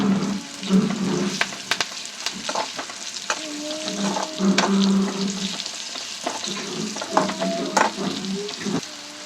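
Carrot chutney ingredients frying in oil, a close sizzle broken by repeated scraping and clanking stirs of a spoon against the pan, uneven bursts over a steady hiss.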